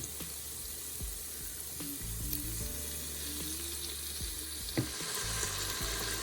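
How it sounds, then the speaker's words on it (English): Chicken searing in a hot pressure cooker pot for chicken marsala, a steady close sizzle and crackle running throughout, with scattered utensil clinks and scrapes as pieces are laid in and moved. "I'm going to go ahead and start layering my chicken in here so that I can sear the chicken"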